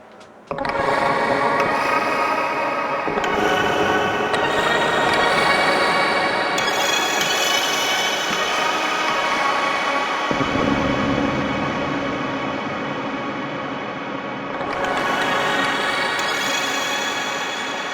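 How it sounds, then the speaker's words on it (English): A dense, washed-out sample rings out drenched in huge reverb, long smeared tails blending together, with brief shifts in tone and a swell near the end. "tried this one with some very large reverb"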